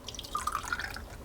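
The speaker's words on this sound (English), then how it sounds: "I'm just gonna take some water here. And I'm just going to fill this up." Water is poured into an automatic egg cooker, with a short burst of close, bright dripping and trickling into a small container that lasts about a second.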